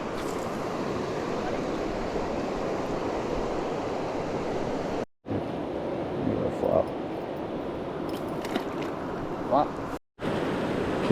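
A fast Colorado mountain stream rushes in a loud, continuous broadband roar close by, with brief wind buffets and two short dropouts.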